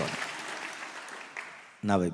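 A church congregation claps their hands in praise with a sustained patter of many hands, then a voice starts speaking abruptly at the end.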